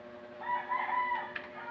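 Chickens on a rural mountain farm, with a rooster crowing in one drawn-out call over softer clucking, fairly close and clear for under two seconds.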